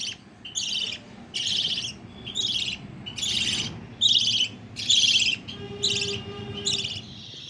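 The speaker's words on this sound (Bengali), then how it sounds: "ডাকছে দেখো পাখি" A bird gives a series of about eight sharp, evenly spaced calls, loud and close, with no talking.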